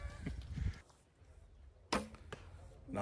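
Traditional bow arrows shot at a turkey target during a traditional bowhunters' event in Kentucky: a loud bow release at the start, then a sharp, close impact thwack followed by a second fainter hit, with outdoor background noise between.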